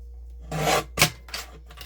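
A craft Christmas bag being trimmed: a few short papery rasping cuts, close and crisp, with one sharper snip in the middle and brief quiet gaps between.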